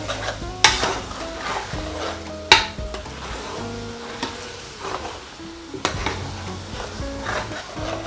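Minced chicken with peas and peppers sizzling in a pan as a spoon stirs it, with sharp clacks against the pan at intervals over a steady fry.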